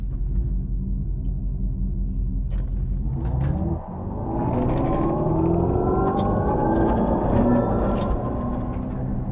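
A 2025 Dodge Charger idles with a low rumble, then launches using launch control and accelerates hard, its pitch climbing steadily as it pulls away.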